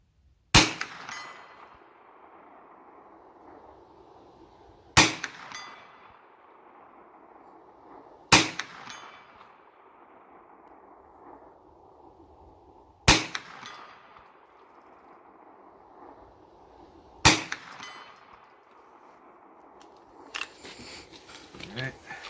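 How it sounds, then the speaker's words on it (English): Five Hi-Point carbine shots each followed by a ringing clang from a steel gong at 100 yards, evenly spaced about four seconds apart, the metallic ring decaying after every report, with a brief later knock. "I'm going to shoot my steel gong out there at 100 yards."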